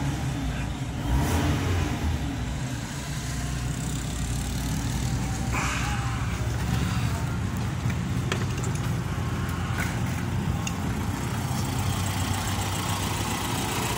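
A 1999 Fiat Palio 1.6 16v engine runs steadily at close range, a continuous even drone with slight rev changes and faint background sounds throughout.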